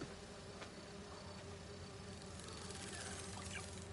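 Bees buzzing inside the Spider-Man 2 video game, a continuous faint drone of insect wings with small shifts in pitch and no talk.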